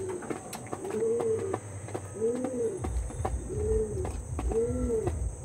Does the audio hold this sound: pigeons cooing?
yes